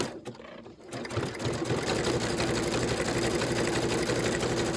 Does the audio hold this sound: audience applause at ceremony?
no